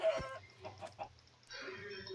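Chickens cluck in a short burst of distinct clucks and squawks inside a video game, close and fairly faint, over a low background hum.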